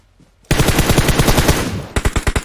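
Automatic gunfire in the PUBG Mobile video game, with a long rapid burst of loud, close shots followed by a few separate spaced shots.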